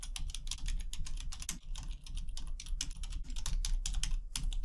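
Rapid, steady keystrokes on a computer keyboard as a commit message is typed in Visual Studio Code, close and clear, with irregular clicking rhythm and no talking.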